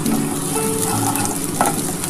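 Garlic sizzles loudly in hot oil with nigella seeds and dried chilli, a steady bright crackle with a brief stir or pop near the end.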